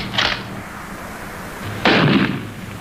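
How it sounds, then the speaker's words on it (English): Two loud gunshot bursts of live rounds fired in a 1959 black-and-white British naval comedy film, one early and a heavier, longer one near the end, with low background hum between. "These are live bullets he's firing."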